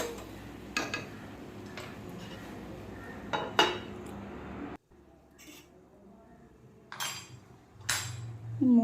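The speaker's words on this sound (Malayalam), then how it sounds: "ഇതൊന്ന് മൂടി വെച്ചു." A lid goes onto a cooking pot in a home kitchen with a few sharp metallic clinks and taps spaced across the stretch, close and moderately loud, over low stovetop background noise and faint talk.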